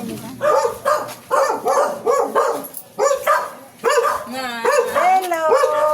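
A nearby dog barks repeatedly in short, regular bursts, with some yipping and whimpering in between, over a quiet background.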